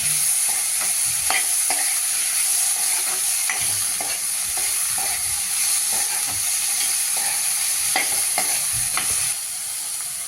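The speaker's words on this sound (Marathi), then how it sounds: "टोमॅटो पण घालूया आता त्याच्यावर परतायला" Tomatoes sautéing in a pan for a red-gravy pea curry, a steady close sizzle with repeated scraping stirs and spatula knocks, alone with no talk.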